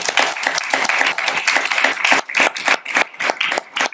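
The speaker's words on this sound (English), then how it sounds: "another round of applause for Gabriel, please." Loud applause from an audience at a local short film showcase evening, dense clapping that continues steadily throughout without voices.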